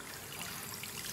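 Warm water pours steadily from a tap into a tub being filled to soak an apron, a continuous close rushing splash with no pauses or voices.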